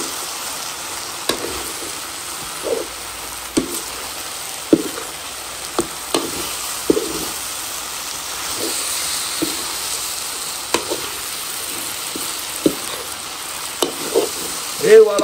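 Pork being stirred and fried in a pan, a steady sizzle broken by repeated scraping and stirring knocks at an uneven rhythm, close and moderately loud, with no talking.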